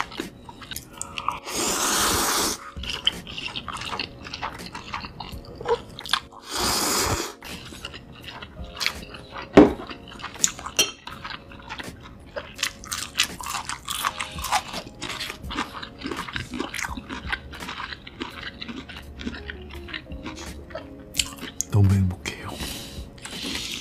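Spicy chicken legs are bitten and torn with the teeth, giving repeated close crunches, wet squishy chewing and smacking in irregular bursts, with a few louder bites standing out.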